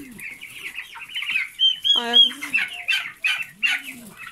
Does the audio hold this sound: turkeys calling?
yes